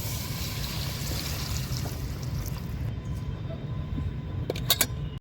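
A steady rush of hot water pours continuously into a pot of chicken curry, ending with a few faint metallic clinks.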